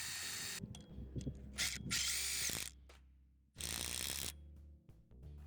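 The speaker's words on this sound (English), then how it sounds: "Then drill a new hole in the center and secure it with a lag bolt." A power drill bores a hole in a metal fence bracket for a lag bolt, running in loud, close bursts with brief stops and restarts, along with ratcheting, grinding metal noise.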